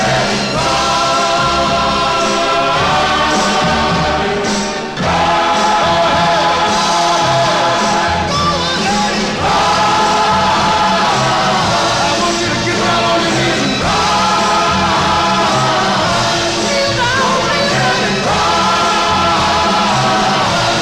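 A 1960s soul single, a 45 on the Verve label, plays as a full, loud band arrangement with steady rhythm and sustained harmonies throughout, with no talking over it.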